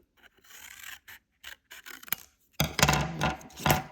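Scissors cut a folded orange paper circle in half, with short separate snips at first, then a louder, longer run of close rasping paper cuts.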